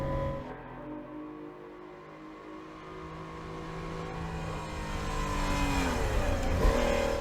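In the Assetto Corsa racing game, a car modded to resemble a 1970s Italian sports car revs toward 8,000 rpm. The engine note climbs steadily with rising harmonics, alone and fairly close.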